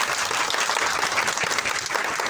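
A crowd of people at a sales gathering claps steadily and fairly loudly, a dense continuous patter of hands lasting a couple of seconds.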